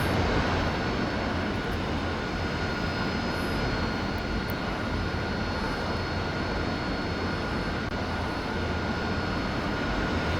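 A Harrier jet taxiing on the ground in the DCS flight simulator, heard as a steady, loud, unbroken engine roar with a high whine running through it, with no talking.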